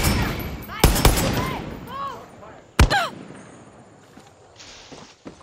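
Gunfire in the video game Far Cry 6: sharp, loud shots and bursts crack out in a cluster near the start, another heavy burst follows a couple of seconds later, and shouting voices and scattered clatter fill the gaps.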